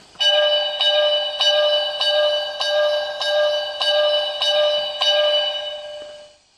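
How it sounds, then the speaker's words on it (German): A compressed-air bell from a 1:32-scale model Baureihe 98.0 steam locomotive strikes about nine times at an even, brisk pace, each ring bright and metallic, overlapping into a sustained clang before fading out. "Dann haben wir eine Druckluftglocke."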